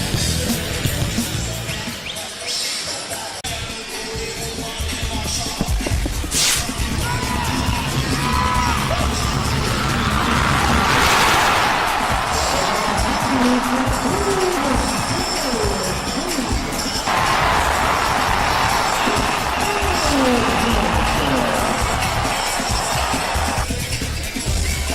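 Basketball arena crowd roars and cheers loudly and continuously after a late three-pointer in a 2008 PBA quarterfinal between Ginebra and Sta. Lucia, with shouts and whoops rising in waves, dense and near.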